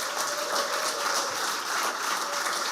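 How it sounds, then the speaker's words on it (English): At a literary award ceremony, an audience gives a dense, continuous round of applause that stays steady and loud throughout the short stretch. "Please give them a generous round of applause."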